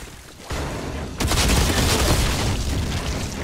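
Rapid gunfire from a newly equipped weapon in the video game Outriders, a loud dense burst that kicks in partway through and roars continuously to the end, preceded by a softer rumble.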